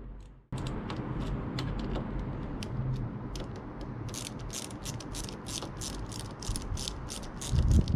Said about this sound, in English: Put your bolt back in, jobs are good then.